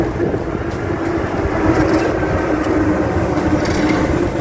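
A train rumbles along steadily on a railway in Perm, Russia, a loud, continuous low roar with faint rattling, no voices present.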